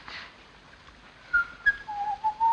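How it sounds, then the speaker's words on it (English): A man whistles a short, wavering tune on a hiding fugitive's moorland escape, a few rising and falling notes growing louder near the end, alone and close. "Oh, do stop whistling."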